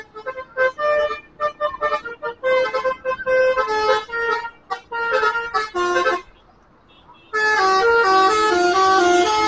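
Bus horns honk repeatedly at a night terminal as a Setianegara bus departs, with long tonal blasts and melodic toots, a short quieter gap, then a sustained loud multi-tone horn to the end.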